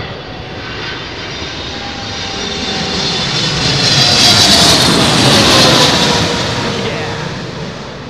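A Boeing jet with General Electric engines descends to land at Heathrow in high winds, its engine roar swelling loud as it passes close overhead and then easing, with wind buffeting the microphone.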